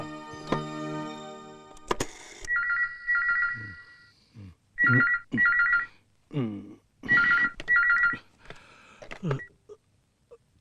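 A telephone rings in repeated double bursts, three rounds in all, with short vocal sounds and pauses between the rings.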